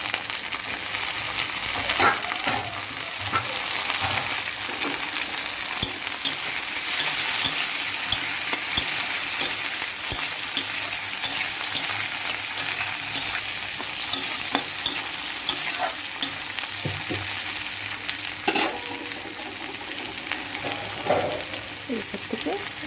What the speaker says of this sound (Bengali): এইবারে উপরে আমি টমেটো কুচি দিয়ে দেবো।